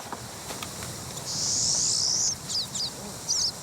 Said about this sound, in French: Un tarin des pins